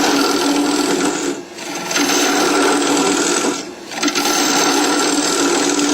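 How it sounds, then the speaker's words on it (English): Wood lathe spinning a bowl blank while a full gouge cuts into it, a steady loud scraping whir with two brief dips where the tool lifts off, no voices. "We'll start to lathe up. Start going in with a full gouge."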